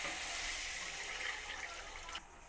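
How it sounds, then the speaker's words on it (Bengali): Water pours steadily into a pan of frying spice masala for potato curry, a continuous broadband splashing rush that cuts off abruptly near the end. "এই সময়ের মধ্যে দিয়ে দেবো জল।"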